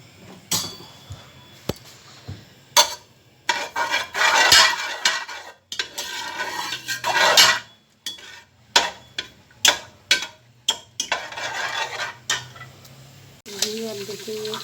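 Chicken for a chicken biryani with potatoes is sautéed and stirred in a pot, with intermittent surges of sizzling broken by sharp clanks of a utensil against metal and some talking.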